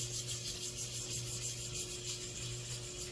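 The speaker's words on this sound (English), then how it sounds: "gently, circular motions, gently start sanding the surface right into these corners here." Soft, steady wet sanding on a bass guitar body, a continuous gentle rubbing in circular strokes, faint and close with a low hum underneath.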